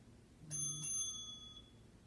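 A small bell rings twice in quick succession to mark the end of a seated lower back and hip stretch. The chimes are soft and clear, with a thin ringing decay in a quiet room.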